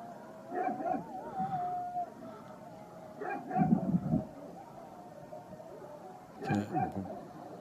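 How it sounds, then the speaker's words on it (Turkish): Dogs in a village bark, yelp and howl at passing shepherd dogs driving a flock of sheep, in several bursts with a drawn-out howl early on, at moderate distance with a voice in between. "Koyun sürüsü geldi. 3-4 tane köpek."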